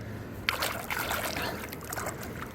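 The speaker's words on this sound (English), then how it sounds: "and those are the river currents." A cold river's currents running past a sandy beach in a jungle setting, heard as a steady close rush and trickle of water with faint splashy detail, no voices.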